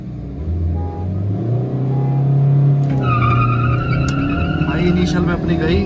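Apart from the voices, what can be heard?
cars drag racing, Honda City vs Ford Aspire vs Fiat Linea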